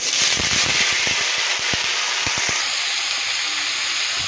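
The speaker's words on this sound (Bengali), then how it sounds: "আলুটা আগে একটু ভাজা হয়ে যাক" Potatoes frying in hot oil for a Bengali pumpkin and potato curry with coconut and peanuts, producing a loud, steady close sizzle with sharp crackles and pops early on that thin out later.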